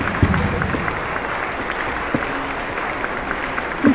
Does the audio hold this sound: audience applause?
yes